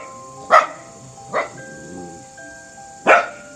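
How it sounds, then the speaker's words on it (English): A dog barks three separate times, two sharp loud barks and a softer one between, over soft sustained musical tones. "Dog, woof."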